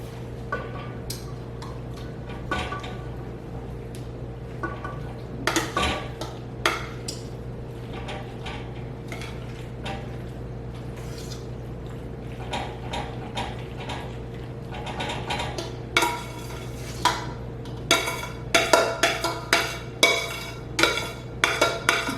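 Peach cobbler is spooned into a baking dish in a hurry: irregular clinks, taps and scrapes of a utensil against the dish, sparse at first and then quicker and louder near the end, over a steady low hum.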